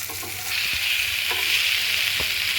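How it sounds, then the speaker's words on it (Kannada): Masala-coated fish fries in a pan, giving a steady, close hiss of sizzling oil broken by a few soft knocks as the pieces are turned, with no voices. "ಅವಾಗವಾಗ ಉಲ್ಟಾ ಹಾಕ್ಕೊಂಡು ಬೇಯಿಸ್ತಾ ಇರಬೇಕು"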